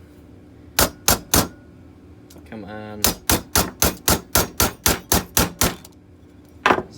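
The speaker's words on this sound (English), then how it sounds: "you take a pin punch, stick it in the hole, and hammer it out." A hammer strikes a pin punch to drive a pin out of a 1974 Westclox Oracle electric wall clock: sharp metallic blows in a few quick pairs, then a steady run of about ten, near and loud, with a brief spoken remark.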